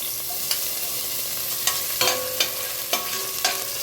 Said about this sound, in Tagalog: siya ay magigisa na. Naglagay na ng mantika. Kunting mantika. Nilagay na ang bawang.